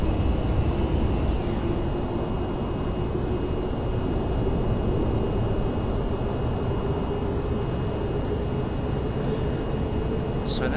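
A VTOL jet in a VR flight game, heard as a constant, loud jet roar with a steady engine drone that holds evenly from start to finish.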